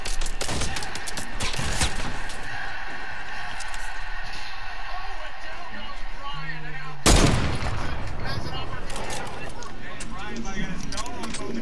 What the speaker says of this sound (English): I'm getting shot at right now.